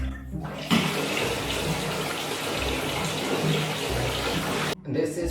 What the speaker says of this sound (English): I think I need to put some cold water in this.